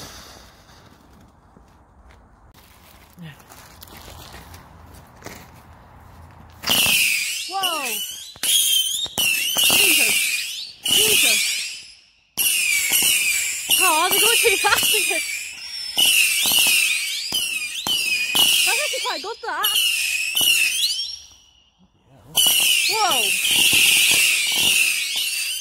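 Repeated bursts of close, loud backyard fireworks crackle and whistle in rapid crackling volleys with short gaps between them, while people chat quietly during the lulls.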